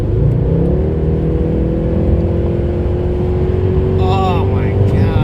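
A Mercedes C63 AMG pulls hard at high speed, its engine droning steadily and loud throughout with a rising whine from inside the cabin, while a person talks over it.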